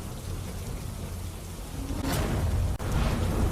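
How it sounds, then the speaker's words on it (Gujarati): Heavy downpour pounds the countryside around Jasdan, Gujarat, a steady dense hiss of rain that swells louder partway through, with a brief dip before the roar resumes; no voices. "જસદણના ગ્રામ્ય વિસ્તારોમાં ધોધમાર વરસાદ।"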